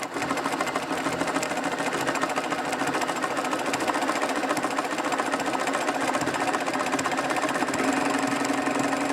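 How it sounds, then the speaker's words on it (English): A sewing machine runs continuously while stitching around a machine appliqué, producing a steady, close whirring hum with a fine rhythmic needle clatter and no pauses or talk. "I just stitch over the starting point by a couple of stitches to secure it and lock it."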